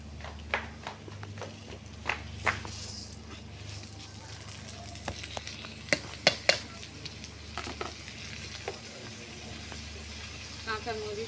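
Rice tipped into browned fried onions in a pot and stirred, with repeated clinks and scrapes of a utensil against the metal over a steady low kitchen hum, sharper knocks clustered toward the middle.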